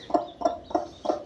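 A hen clucks four times in an even rhythm, close and moderately loud.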